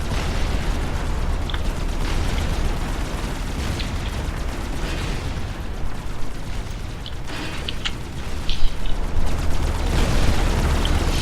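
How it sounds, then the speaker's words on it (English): Coaxial cannons firing in the Supreme Commander strategy game, a steady stream of booming shots and mechanical clatter under a dense battle din, with scattered sharp bursts standing out, no voices. "the coaxial cannons are blazing away as well"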